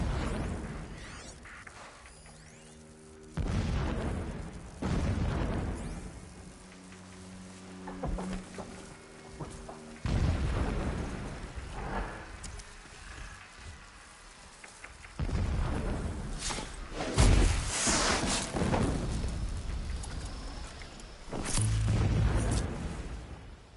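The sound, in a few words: distant explosions in Horizon Zero Dawn Remastered video game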